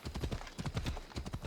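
Rhythmic hoof clip-clops of a horse travelling a road in Assassin's Creed Odyssey, a steady quick gait of soft thudding beats, moderately near and fairly quiet.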